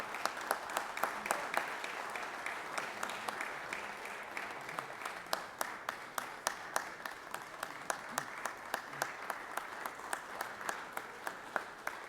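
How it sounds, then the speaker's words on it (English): Audience in a legislative chamber gallery applauding a visiting high school football team from Milledgeville, Georgia; steady, moderately distant clapping with sharp individual claps standing out, sustained throughout without talk. "Y'all give these young men a round of applause real quick."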